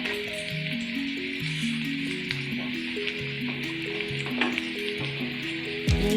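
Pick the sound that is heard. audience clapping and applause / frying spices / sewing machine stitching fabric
frying spices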